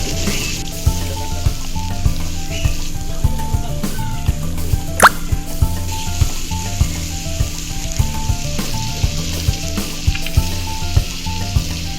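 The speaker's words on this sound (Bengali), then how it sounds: "পেঁয়াজ কুচি দিয়ে দিলাম, পেঁয়াজটা ভালো করে ভেজে নেবে" Chopped onions fry in a pan with a steady sizzle, broken by frequent small pops and occasional stirring scrapes, close and continuous with no voices.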